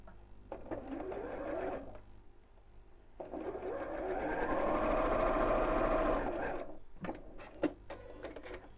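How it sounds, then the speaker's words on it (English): Domestic sewing machine running a straight seam, with short bursts of stitching, a pause, then a longer steady run before it stops, followed by a few light clicks; close and moderately loud. "just sew along here up to the point where I've just top stitched"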